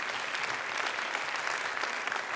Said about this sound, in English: I want to give a very big applause to all of them and to all of you for this very interesting journey